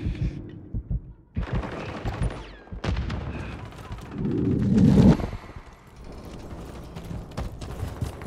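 Gunfire from an LMG or pistol in Call of Duty Modern Warfare III Remastered, heard as loud close bursts and single shots over rumbling battle noise, with a heavy impact near the middle and no clear talk.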